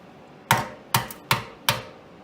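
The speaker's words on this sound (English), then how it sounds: "Pulling off the eggshells like this." Shells of hard-boiled eggs, cooked in an Instant Pot electric pressure cooker, being cracked and pulled off: four sharp, evenly spaced knocks, close and crisp, with quiet in between and no voices.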